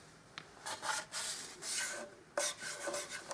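A scraper rasps over dried Liquid Nails construction adhesive in a few close, scratchy strokes of varying length, with one sharper catch partway through, no talk.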